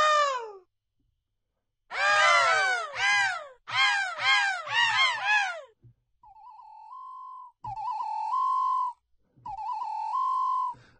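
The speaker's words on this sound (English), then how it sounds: "Can you hear the birds?" Birds give loud, harsh, repeated calls in quick clustered bursts, then shift to steadier, higher whistled tones, close and clear with no talking.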